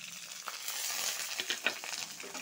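Chopped garlic and onion with curry leaves frying in a pan, a steady close sizzle with soft scraping stirs throughout, no talking.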